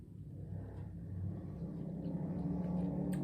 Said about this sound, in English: He's just literally on a four-wheeler riding back and forth down the alley